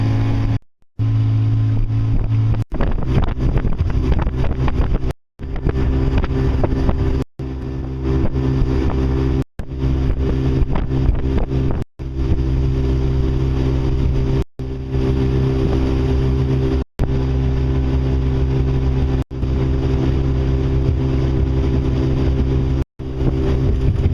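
An outboard motor on a small boat runs steadily and loud throughout, a continuous droning hum with brief dropouts, with no voices.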